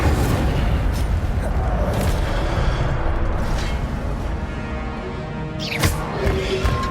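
The Incendio fire spell in Hogwarts Legacy blasts with a dense rumbling roar that swells throughout and peaks in a sharp burst near the end.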